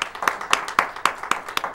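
Applause from an audience at a community event, heard as a short burst of about seven evenly spaced claps that are fairly faint and close by.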